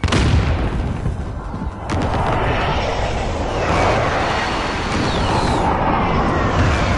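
Airstrike explosions in a video game: a dense, continuous rumble of heavy booms and blasts, loud and close throughout, with no voices over it.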